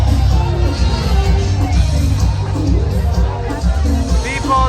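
Dense crowd hubbub at a São João street celebration in Salvador, Brazil, with steady babble, scattered shouts and whoops, and music or performers blending into a continuous loud wash close around.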